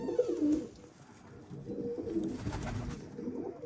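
Pigeons coo close by, a few soft throaty calls layered over one another for a few seconds.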